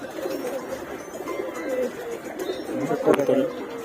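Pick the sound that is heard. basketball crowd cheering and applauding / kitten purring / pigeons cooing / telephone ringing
pigeons cooing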